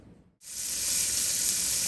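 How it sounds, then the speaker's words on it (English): Meat drops into a hot pot and breaks into a loud, steady sizzle that holds without letup, a bright frying hiss close up with no voices. "let this brown for about 10 minutes or so until you get a nice dark brown on it"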